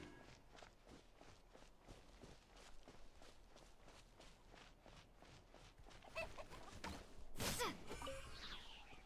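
Chickens clucking in Genshin Impact alongside rhythmic footsteps of a walking character, soft and fairly faint, with a brighter burst of game sound near the end.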